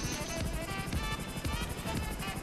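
Helicopter in the video game GTA 5 Online, a loud close rotor beating in a fast steady rhythm over a whining engine tone, continuous throughout with no talking.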